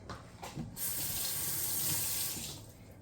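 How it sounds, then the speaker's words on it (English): A kitchen sink tap runs hard to rinse raw pork ribs and drain off hot water. After a few short splashes the flow turns into a close, steady rush, with no talking. "Alright, so I drain off the hot water and rinse them one more time."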